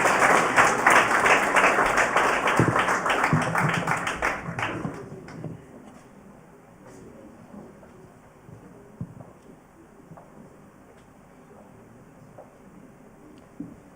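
Audience applause at a quiz competition, a loud, dense burst of many hands clapping for about five seconds before fading to a quiet room with a few scattered claps.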